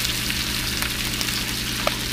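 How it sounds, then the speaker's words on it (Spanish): Shrimp and fish fry in a hot wok for teppanyaki, giving a steady, close sizzle and crackle with occasional stirring and no talk. "Voy a mezclar un poco y lo voy a dejar a fuego mediano por lo pronto."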